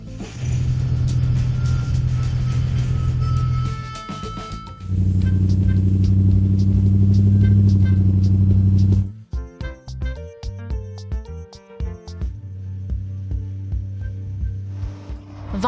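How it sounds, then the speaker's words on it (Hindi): Cartoon construction vehicles, an excavator and cargo trucks, rumble along a road, with a steady loud engine drone giving way to choppy mechanical clanks and beeping tones toward the end. "वाहन सड़क पर यात्रा कर रही हैं"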